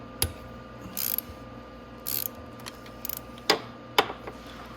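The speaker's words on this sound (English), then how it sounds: "Okay, so we're going to remove all those acorn nuts." A hand ratchet works acorn nuts loose from the top end of a Venom X22GT 250cc motorcycle engine. It gives short bursts of rapid clicking and a few sharp metallic knocks, close and clear in a quiet room.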